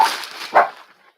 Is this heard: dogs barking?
yes